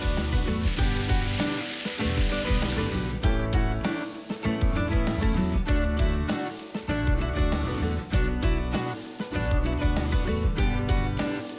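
Bacon and shallots sizzle in a pan, a steady crackle that runs under louder rhythmic background music throughout.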